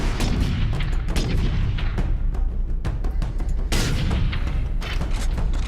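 Heavy gunfire and booming blasts from a Warhammer 40K: Space Marine battle, with dense, loud, continuous reports and a sharper burst near the end rather than a single isolated sniper shot.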